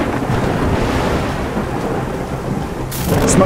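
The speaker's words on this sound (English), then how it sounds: "We could even turn the storm effect feature on this light to replicate lightning." A thunderstorm sound effect plays loud and continuous: heavy rain hisses over a deep, rolling thunder rumble that swells again in a bright crack near the end.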